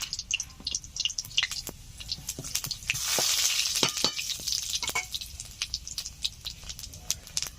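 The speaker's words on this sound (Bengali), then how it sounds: "তেল গরম হয়ে গেছে, দিয়ে দিচ্ছি গোটা সাদা জিরে" Whole white cumin seeds sizzle in hot mustard oil in a village-style kitchen. A steady crackling fry with sharp pops is heard up close, and a brief stirring scrape comes in the middle. No one speaks.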